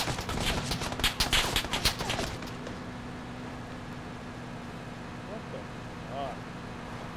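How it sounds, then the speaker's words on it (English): PUBG gunfire on Xbox: rapid bursts of shots crackle through the first two seconds, then fade to a quieter background, with players talking over it. "They're still shooting."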